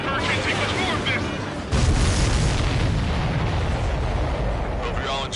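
Heavy, rumbling explosions fill an aerial combat mission in the video game Ace Combat 7: Skies Unknown, a loud continuous wall of booms that swells sharply partway through, with faint voices underneath.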